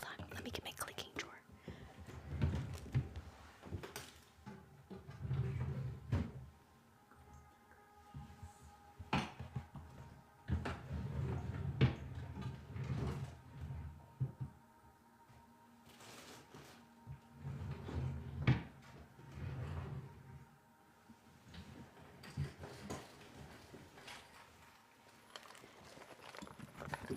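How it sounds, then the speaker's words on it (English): A drawer is opened and rummaged through for small clicking items in a quiet indoor setting, with soft knocks, clatters and light taps in bursts under close whispered speech. "Hold on, let me get my clicking drawer."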